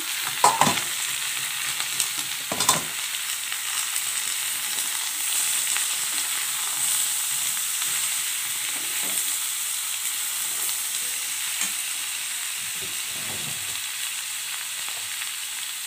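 Cabbage and beans frying in a pan with onion and chili sizzle steadily, with a few louder clattering stirs near the start and softer scraping later.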